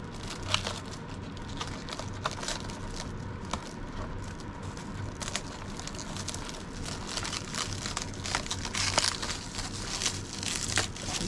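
Plastic wrapping unravelled from a Traxxas TRX4m RC truck, continuous close crinkling and crackling with sharp tearing snaps throughout, no voices.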